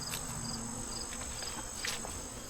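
Honeybees buzzing steadily around an open hive during winter preparation, a dense close hum with individual bees passing near, and no talking.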